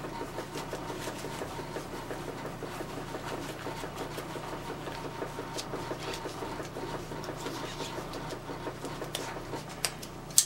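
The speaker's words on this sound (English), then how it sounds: "and that's the washing machine going." A washing machine runs in the laundry room directly overhead, a steady muffled mechanical drone with a faint repeating churning pulse, low and continuous with no talk.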